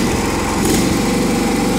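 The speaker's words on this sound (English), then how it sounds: "The motor runs really smooth." Small engine of a John Deere Hydro 175 lawn tractor running steadily and close, an even, smooth drone with a slight mechanical rattle underneath and no voices.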